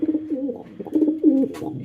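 Peshawari pigeons coo close by, several soft throaty rolling calls overlapping one another with brief pauses between them.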